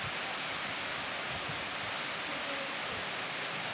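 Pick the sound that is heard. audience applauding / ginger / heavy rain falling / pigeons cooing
heavy rain falling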